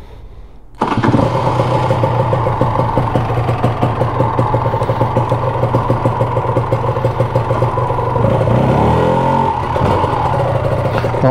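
A Honda NSR motorcycle two-stroke engine fitted with a Malossi 180 kit starts up and warms up, running loud and close with a steady buzzing idle and a brief rev near the end.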